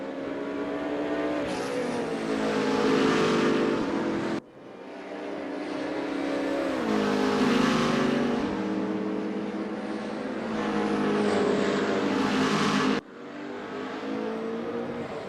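Corvette and BMW race cars battling on track, engines roaring loud and close with rising and falling revs as they accelerate and shift, nearly continuous with a couple of brief cuts.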